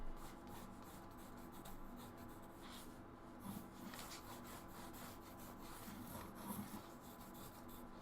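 A pencil drawing on paper for a comic cover, with faint continuous scratching and rubbing strokes over a quiet room hum, no talking.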